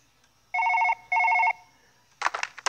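Two crisp electronic trill rings from a phone in the mobile game Surgeon Simulator sound in quick succession, then a voice starts speaking right after.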